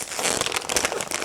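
A plastic vacuum bag for prepreg carbon fibre moulding being pinched, giving a short, close crinkling rustle of film lasting about a second.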